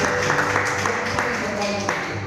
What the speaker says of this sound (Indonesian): Tepuk tangan yang paling keras